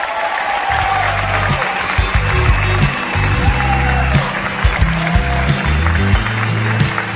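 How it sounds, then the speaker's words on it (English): An audience applauds at a music awards gala, with continuous loud clapping and crowd noise over a low, droning musical bed. "please give a huge round of applause for the 2019 Akademia Pop Rock Artist of the Year,"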